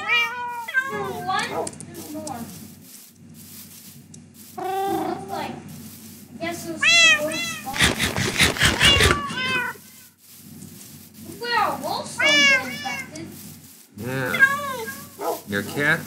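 Cats meowing repeatedly in Minecraft, a series of loud, close, rising-and-falling meows in clusters, with a burst of rapid clicking noise in the middle and people talking alongside.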